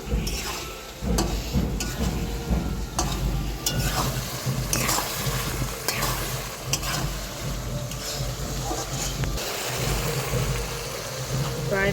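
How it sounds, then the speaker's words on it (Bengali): Fish kaliya masala being stirred and sautéed in a pan, a steady close sizzle with frequent scraping stir strokes running the whole time and no voices over it. "এখন ভালো করে নেড়ে চেড়ে কষিয়ে নেব, আরও 5 মিনিট কষিয়ে নেব"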